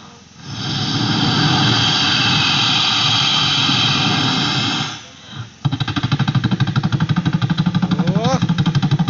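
A helicopter lands at a festival, its engine and rotor giving a loud sustained roar that briefly dips, then a rapid rhythmic chopping beat, with voices talking and calling over it.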